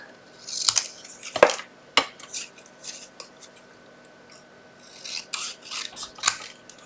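Scissors cut through card stock for a fold card, a series of crisp close snips and slicing rasps in quick irregular bursts, pausing midway before another run of cuts, with no talking.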